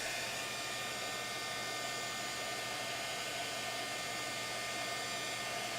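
Steady airy roar of a heat tool warming metallic foil on a stamped card, a constant hair-dryer-like blow with a low hum beneath, running unbroken throughout.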